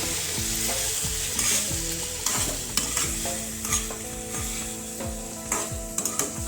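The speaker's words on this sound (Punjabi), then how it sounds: "ਸਬਜ਼ੀ ਦੇ ਵਿੱਚ ਆਪਾਂ ਪਾ ਦੇਵਾਂਗੇ ਸ਼ੱਕਰ ਮਿਕਸ ਕਰ ਦਵਾਂਗੇ" Sugar stirred into pumpkin sabzi frying in a pan, a steady close sizzle broken by repeated scraping strokes of the spoon against the metal, with no voices.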